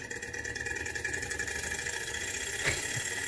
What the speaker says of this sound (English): Finally, we've got a Stirling engine that does what it says on the tin.